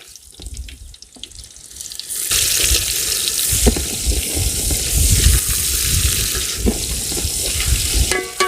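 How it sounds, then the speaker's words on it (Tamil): Chopped onions sizzle and crackle in a pan of hot oil, the frying swelling louder after a quieter start and holding steady with a few clinks. "நறுக்கி வச்சுருக்க வெங்காயத்தை சேர்த்துக்க போகிறோங்க."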